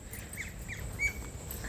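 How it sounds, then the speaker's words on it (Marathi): Birds squawk and chirp in short, scattered calls over a steady low rumble in a Konkan coastal village, fairly faint and at a moderate distance. "बघा पक्ष्यांचे मस्त आवाज येतात."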